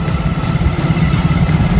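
A motorcycle being ridden toward a village runs with a loud, close, steady low engine rumble and no break or change in pitch.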